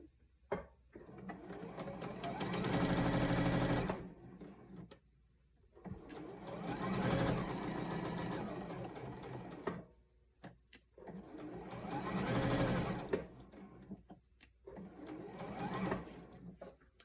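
Sewing machine stitching pinned fabric seams, three bursts of steady close whirring and needle clatter with short quiet pauses and small handling clicks between them.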